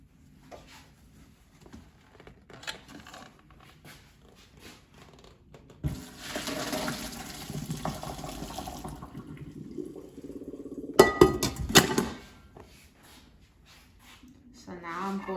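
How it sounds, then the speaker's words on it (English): Water pours and splashes through a colander draining pressure-cooked chickpeas for several seconds, with clattering and a person talking around it. "now I'm going to drain water. So I'm just going to take a colander."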